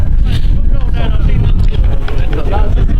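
Strong, cold wind buffets the microphone with a low, gusty rumble while someone speaks over it at an outdoor rugby match.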